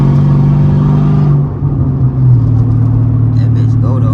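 A Dodge Challenger SRT8 392 Scat Pack engine holds a loud, steady roar in road traffic, then the tone dips and climbs again as it pulls harder.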